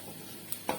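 Soft, steady frying hiss from a pan of carrots, cabbage and beans sautéing for veg noodles, with a couple of brief stirring scrapes near the end; quiet and close, with no voices.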